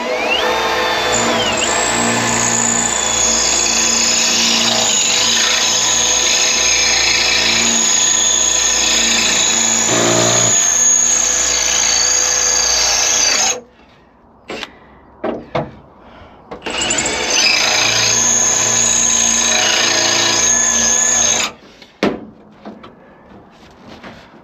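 A power drill whines steadily and loudly for several seconds, drilling metal on a classic car in a salvage yard, stops, then bursts on again briefly, with clunks and rattles in the pauses.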